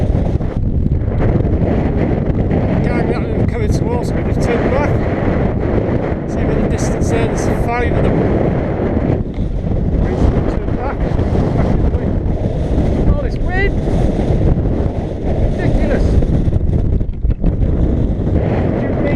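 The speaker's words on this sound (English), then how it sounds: "This wind is getting a bit silly." Strong, gusty wind buffets the microphone nonstop on a hill walk up Moel Famau as dusk falls, a loud roaring rumble with a voice occasionally under it.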